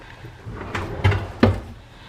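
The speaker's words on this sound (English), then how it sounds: "Every single drawer, it pulls out." A kitchen pull-out drawer for pots and pans slides out with a low rumbling glide, ending in a couple of soft thuds as it stops.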